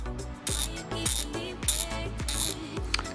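A Milwaukee power tool ratchets in repeated short bursts, a crisp clicking mechanical whir that starts and stops about five times at close range, with no talking.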